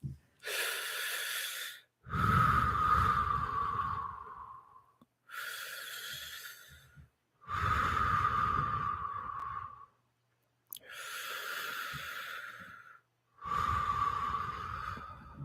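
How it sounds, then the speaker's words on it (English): Three slow, deep breaths, each a long loud inhale followed by a long audible exhale, close and alone with brief silences between. "take 3 deep breaths."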